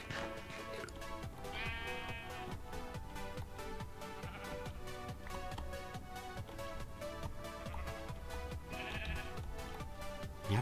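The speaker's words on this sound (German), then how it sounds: "Erstes Schaf ist eingefangen." Sheep bleating in Minecraft, a few faint digital bleats over a dense, busy background of rhythmic game and music sounds, quiet overall.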